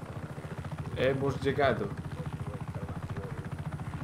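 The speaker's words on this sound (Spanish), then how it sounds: "Menos mal que tenía este helicóptero, ¿eh?" A helicopter from the game Just Cause 3 drones with a steady pulsing rotor rumble throughout, while someone talks over it.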